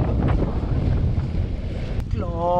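Loud wind in a sunken river valley buffets the microphone in a continuous rushing roar, with a brief high whistle near the end.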